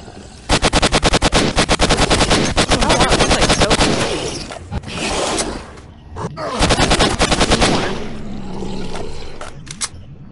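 Rapid automatic gunfire in STALKER: Shadow of Chornobyl on PS4, two long loud bursts of evenly spaced shots separated by a short pause, with a few scattered shots after.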